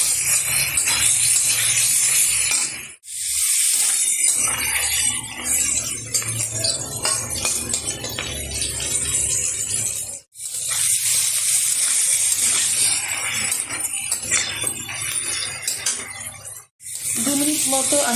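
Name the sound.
chicken pieces frying and being stirred in a pan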